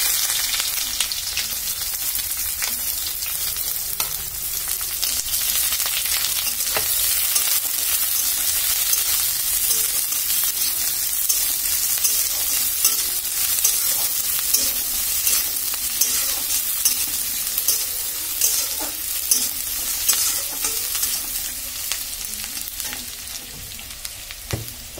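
Onions sizzling steadily in hot oil with dried chillies and bay leaves, a dense continuous frying hiss with occasional spatters and stirring, close and loud throughout.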